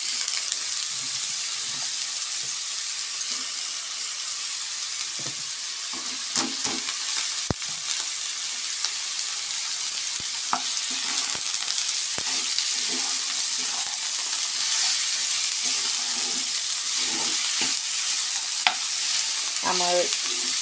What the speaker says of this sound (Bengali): এই যে রসুনটা লাল লাল ভাজা হয়ে গেছে, আমি এই যে দিয়ে দিলাম গাজরগুলো